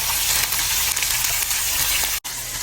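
Seasoned pork searing in a hot pan after garlic, a loud, dense, hissing sizzle that runs steadily throughout, broken by one brief dropout near the end.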